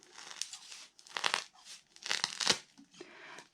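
Scissors cutting around the edges of paper for large decorative photo-zone wings, with several short crisp snipping bursts in an irregular rhythm, close and fairly quiet.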